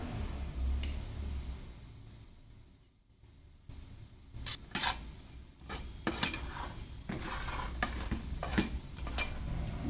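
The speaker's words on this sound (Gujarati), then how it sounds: "ઢોકળા ગરમ છે ત્યારે જ આપણે વઘાર તેની ઉપર રેડી દેશું" Hot cumin and sesame tempering is poured over freshly steamed dhokla in a home kitchen, giving a steady hiss and sizzle punctuated by several sharp metallic clinks of a spoon and pan.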